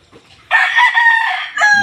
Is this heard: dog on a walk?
no